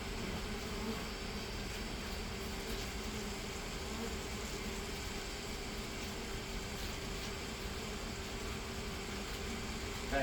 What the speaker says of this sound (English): This bee vacuum system that I built myself works better than anything you can get